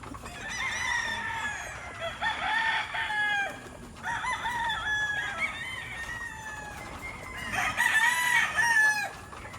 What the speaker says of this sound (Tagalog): Mga brood cock namin dito.